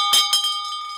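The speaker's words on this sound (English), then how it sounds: "ring the bell, ring the bell" A bell rings with two quick bright strikes, leaving a sustained metallic tone that hangs and slowly fades on its own.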